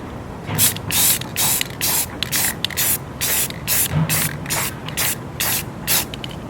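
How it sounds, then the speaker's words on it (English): A can of white spray paint sprays onto a wreath in a series of short, sharp hissing bursts, about a dozen quick pulses with brief pauses between them, close up. "Spray the top. Spray in between the wreath."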